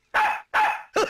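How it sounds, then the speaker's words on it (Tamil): A dog in a Tamil comedy scene gives three short, loud bark-like yelps close by, each about a third of a second long, with brief gaps between them and no talking over them. "என்னடா நாய் சிரிக்குது?"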